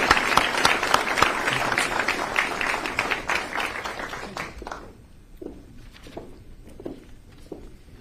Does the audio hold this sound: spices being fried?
no